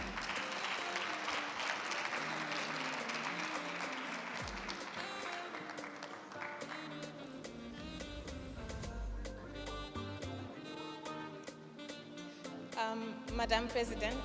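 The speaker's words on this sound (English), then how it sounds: "A round of applause as they come." Audience clapping at a presidential inauguration, a broad wash of applause at first that thins out as music and other sounds take over, with tonal and percussive elements rising in the later part.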